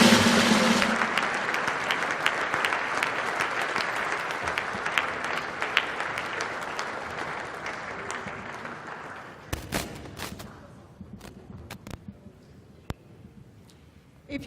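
A conference audience in Accra stands and applauds as the President leaves a finance forum, loud sustained clapping that thins out and fades to scattered claps near the end.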